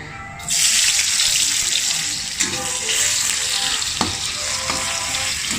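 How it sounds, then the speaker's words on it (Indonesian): Sliced large onion hits a hot wok and bursts into a loud, steady sizzle close by, continuing as a bright frying hiss with a few clinks of stirring. "Jadi panas-panaskan kuali. Oke, masukkan setengah saja nih bawang besar."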